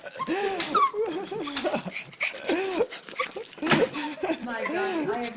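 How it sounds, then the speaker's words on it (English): An excited, happy pet dog whimpers and whines in rising, looping cries close by, while someone talks warmly over it throughout. "Oh, is she a happy dog?"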